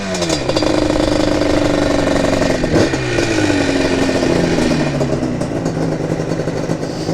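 A Yamaha Banshee two-stroke trail build revs loudly and continuously, its pitch climbing and then sliding back down as the engine settles into a steady, buzzy lower note.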